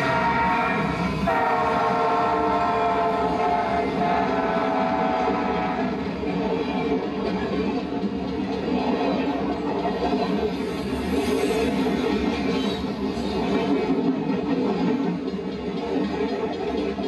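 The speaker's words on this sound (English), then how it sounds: "You can see the ghost train every night traveling across the Oak Leaf Trail Bridge at Capitol Drive in Shorewood" A train rolls across the Oak Leaf Trail Bridge at Capitol Drive in Shorewood, a loud steady rumble with a sustained horn blast near the start, continuous for the whole stretch with no talk.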